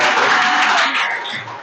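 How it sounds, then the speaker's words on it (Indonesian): A classroom group claps together in a brief, dense burst of applause that starts loud and fades over under two seconds, with no talking over it. "Tepuk tangan untuk kita semua"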